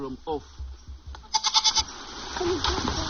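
Local village goats bleat in a short quavering burst near the middle, set against someone speaking and general outdoor farm noise.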